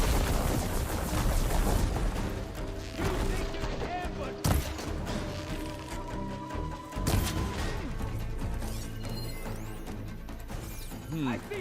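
Enemy gunfire in Horizon Forbidden West, rapid bursts of shots and sharp impacts over a busy, loud game soundtrack, with a voice talking over the action.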